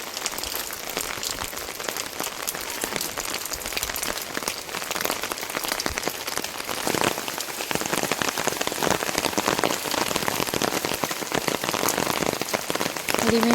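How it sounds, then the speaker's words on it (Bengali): Heavy storm rain pours steadily onto surfaces around a house, a dense continuous patter heard from indoors, growing a little louder midway. "এখানে আমাদের বৃষ্টি পড়ে ঘরের মধ্যে থেকে"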